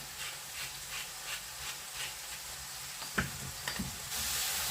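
Steady sizzling and crackling of sliced mushrooms frying in a hot pan, with faint scraping or stirring noises in the middle and a rising hiss near the end.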